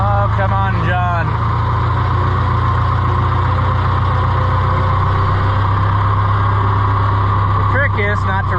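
An Oliver 1355 tractor engine idles steadily with a deep, constant low rumble close by, while voices talk briefly at the start and again near the end.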